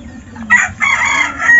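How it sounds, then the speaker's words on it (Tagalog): A rooster, a farm cockerel, crows loudly and close by in one drawn-out, wavering call, with some clucking from nearby fowl. "Itong tandang na ito."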